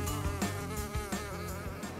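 Buzzing fly in an animated cartoon, a close, continuous drone with a wavering pitch and small pulses.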